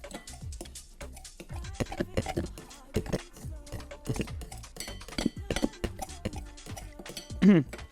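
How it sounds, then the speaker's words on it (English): A knife scraping and clinking against a bowl while a hot mixture is stirred into an egg mixture for homemade ice cream, a run of irregular sharp taps and clinks at close range. "I'm going to mix this hot mixture into the egg mixture"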